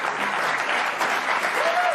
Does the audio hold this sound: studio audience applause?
yes